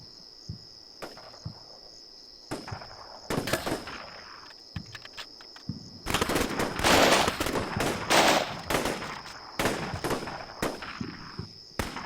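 Troops area-firing in the Black Sea military video game: scattered gunshots turning into dense bursts of automatic fire over a constant high insect-like night chirr.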